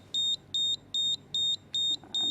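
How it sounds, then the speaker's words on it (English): The timer buzzer on an FPGA board sounds as a series of six evenly spaced electronic beeps, each a short, shrill, steady tone with brief gaps between, loud and close with no talk. "So you heard the buzzer and it froze there."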